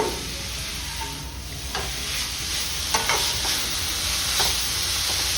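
Ingredients frying in a hot pan for beetroot chutney, a steady close sizzle with occasional stirring scrapes and light pops running throughout without talk.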